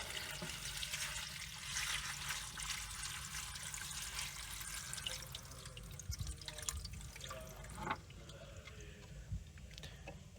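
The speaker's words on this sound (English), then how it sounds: "Then we pour out the majority of the water." Water pours and splashes out of a Wazer Pro waterjet cutter tank, then trickles into drips, with scattered clunks near the end.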